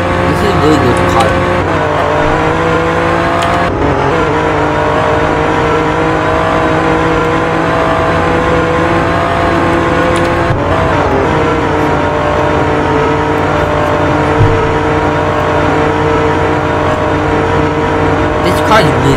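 A 2021 Alfa Romeo Giulia Quadrifoglio revs and accelerates hard, its engine note rising in pitch through several gear pulls, loud and close from inside the cabin amid road and wind noise.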